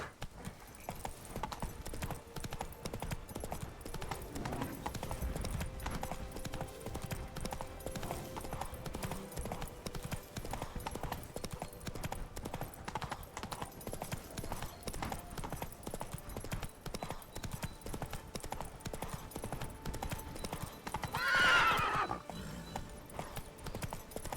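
Horse galloping in The Witcher 3: Wild Hunt's Blood and Wine expansion, a steady rhythmic clip-clop of hooves throughout, with a short whinny or neigh rising near the end.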